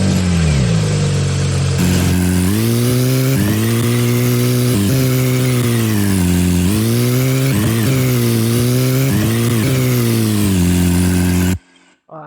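A car engine sound effect in a driving game under development revs and climbs repeatedly, with loud steady harmonic pitch rising and dropping at each gear shift, then cutting out at the end.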